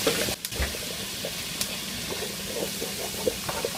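Garlic frying in a pan sends up a steady close sizzle, broken by occasional scrapes and light knocks of stirring, with no one speaking.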